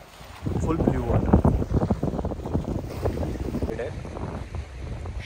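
Cool wind gusts buffet the microphone at a beach facing the sea, with a rough, uneven rush throughout while a person talks over it.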